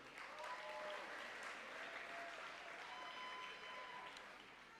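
An audience applauds all-conference girls wrestlers at a county high school athletics award show, a steady, dense wash of clapping that stays strong for several seconds, with some voices mixed in, before easing slightly at the end.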